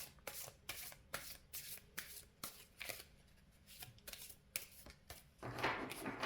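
Tarot cards are shuffled by hand in quick, crisp riffling bursts that repeat in an irregular rhythm, close and fairly quiet, with a louder rustling flurry near the end and no talk.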